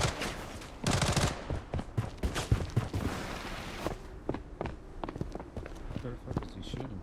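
Video-game gunfire crackles in rapid bursts amid footstep-like clatter, loud and close, with people talking over the shooting.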